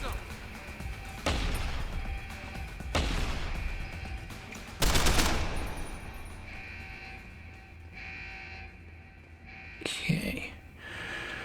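Shotgun blasts in the video game Deus Ex: Human Revolution, several loud booming shots spaced a couple of seconds apart, with a lone voice talking quietly between them and game ambience underneath.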